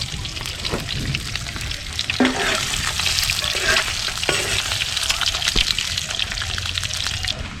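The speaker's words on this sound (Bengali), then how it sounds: "তেলটা গরম হয়ে গেছে, ডিমগুলো ছেড়ে দিচ্ছি।" Eggs hit hot oil in a wok-style pan and fry with a loud, close sizzle, broken by clinks and scrapes of a spatula, with no talk.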